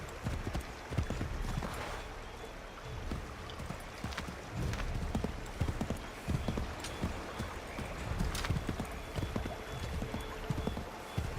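Horse hooves gallop steadily in Assassin's Creed III, a rapid drumming clip-clop that runs the whole time over a dense outdoor wash of game ambience, fairly close and with no talking.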